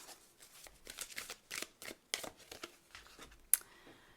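Tarot and oracle cards shuffled and drawn by hand, a string of soft papery riffles and slides, close and quiet, ending with one sharp snap of a card.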